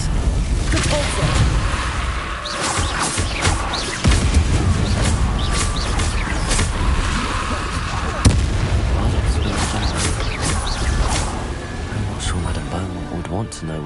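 Spell blasts from Hogwarts Legacy gameplay, including Confringo, Expelliarmus and Repulso, burst as loud repeated booms and whooshes over a busy, dense game soundscape, with a voice casting the incantations.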